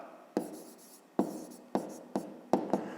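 A pen writes an answer for a fifth-grade maths exercise, five short close scratches of the pen tip on paper with brief quiet gaps between them.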